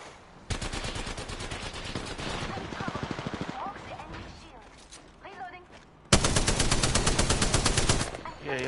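Loud, sustained machine gun bursts in a multiplayer shooter, rapid automatic fire running for several seconds, pausing, then resuming close and heavy, with a player's voice faintly under the gunfire.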